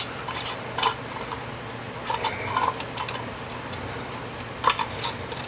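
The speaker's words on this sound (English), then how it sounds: "Then I take my sterilized lid, put that on there, and the ring." Sterilized metal lid and screw ring being placed and fitted onto a glass canning jar of homemade pickle relish, giving a series of light metallic clinks and scrapes at close range.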